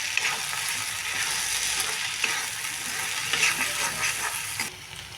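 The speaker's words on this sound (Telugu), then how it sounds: "దీనికి ఒక స్పూన్ సాల్ట్ వేస్తున్నాను కూరకి సరిపడా సాల్ట్ వేసేసుకోండి మొత్తాన్ని మిక్స్ చేసేసుకోండి" Okra curry sizzles and fries in a pan while a spoon stirs in salt, a continuous close crackling hiss with scraping stirs and no talking.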